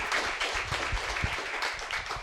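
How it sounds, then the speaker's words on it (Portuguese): Members of a prayer group clap for Jesus, a loud, close burst of many hands with a few sharp individual claps standing out across the short stretch. "vai dar palmas para Jesus?"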